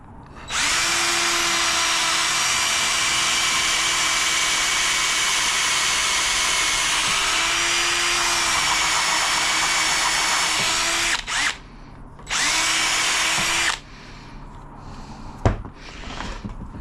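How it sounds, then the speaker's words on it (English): A power drill whines steadily for about ten seconds, its pitch dipping as it bores into a hazel stick offcut, then stops, restarts briefly and falls quiet. "Take your drill,"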